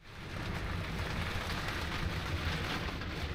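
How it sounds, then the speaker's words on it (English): Steady rain drums on the roof and sides of a drivable cabin camper while gusty wind blows outside, a dense continuous wash of drops with low rumbling buffeting and no voices. "It is raining. And it is windy."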